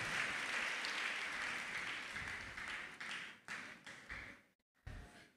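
Applause rises from a church congregation during a worship service, a steady broad wash of clapping that thins and breaks off briefly near the end before resuming.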